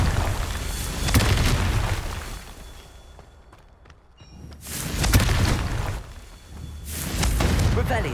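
Confringo fire spell blasts in the Hogwarts Legacy video game: three loud, booming bursts, each rolling out and fading, separated by a quieter lull.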